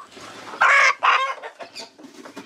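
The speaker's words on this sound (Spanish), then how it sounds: "Mira la gallina copetona" A crested hen clucks close by in a farmyard or market setting, two loud, sharp clucks followed by softer, scattered clucking and faint background noise.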